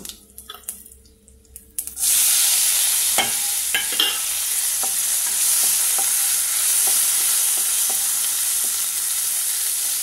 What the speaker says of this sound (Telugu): ఇలా పోపు చేసుకోవాలండి.